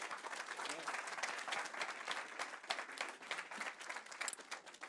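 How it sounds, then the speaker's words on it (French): Sustained applause from a conference audience at the opening of a security talk, dense and steady clapping throughout, with no speech over it. "je vous prie de faire un tonnerre d'applaudissements pour les entrailles du dispositif de notification Windows"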